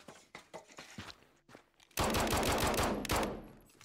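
Gunfire in the Garry's Mod video game: after a few soft scattered clicks and thuds, a loud sustained burst of rapid automatic shots erupts and keeps rattling close up, with a second surge near the end.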